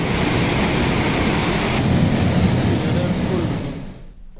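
Heavy rain pours after two days of continuous downpour in Chamoli, Uttarakhand, where a rain-fed stream near Naini village is in spate. The loud, steady roar fills the scene before fading out at the end.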